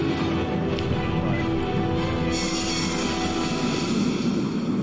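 Fictional airplane flying in Metal Gear Solid 3: Snake Eater on PC, a steady loud engine drone with broadband roar that holds throughout, with no talk over it.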